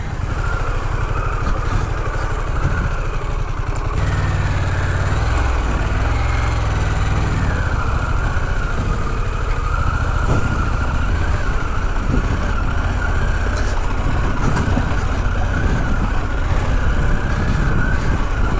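A Harley-Davidson Pan America motorcycle rides off road on wet terrain, its engine droning loudly and continuously with wind rush close by throughout.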